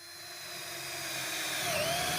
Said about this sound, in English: Drill a couple of 3/16 countersunk holes about 3/4 of an inch from the back edge for mounting screws